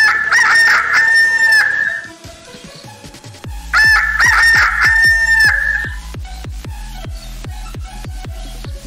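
A rooster crows loudly twice in long drawn-out calls, with a series of rapid clucks and scratchy fowl noises between and after, close and clear with no talking.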